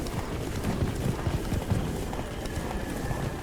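Roach the horse gallops in The Witcher 3 video game, with a fast, steady clip-clop of hooves close and loud, no talking.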